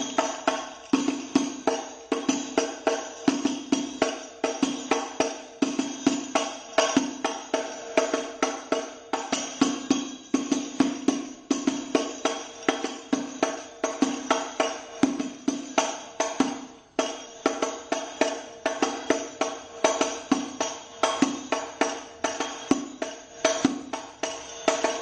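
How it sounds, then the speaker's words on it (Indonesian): Hadroh rebana frame drums played in the rumus kerinci beat, a steady, loud, repeating pattern of sharp slaps and resonant thumps that keeps an even rhythm throughout, near and without talk. "Jadi untuk bunyi tabuhan kerinci atau rumus kerinci bunyinya seperti ini."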